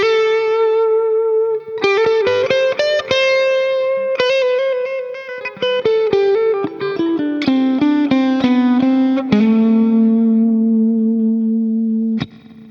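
Electric guitar played through a Laney tube amp plugin, strumming a loud run of distorted chords with echo and reverb, ending on a long sustained chord and a final stab, with no talking.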